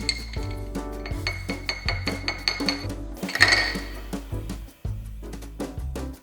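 A chai latte with milk and cream is stirred in a glass, producing rapid ringing clinks and taps of the spoon against the glass in a quick irregular rhythm, close and clear, with no speech.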